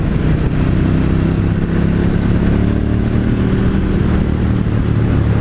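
A 2018 KTM 1290 Super Duke motorcycle engine holds fourth gear around 4,000 rpm at about 50 mph, a loud, steady, close droning rumble with no break and no voices.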